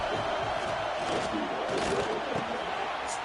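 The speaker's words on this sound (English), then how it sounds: "This crowd rising up, sensing that its defense needs some help." A stadium crowd in an NCAA college football video game swells in a steady, distant roar of cheering beneath quieter play-by-play commentary.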